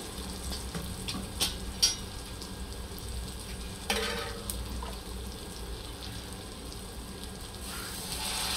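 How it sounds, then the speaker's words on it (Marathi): Water poured into masala vermicelli (sevai) frying in a pan, giving a steady low sizzle with a brief louder hiss partway through, heard alone without talk. "आणि आता आपण टाकून घेऊया यात पाणी।"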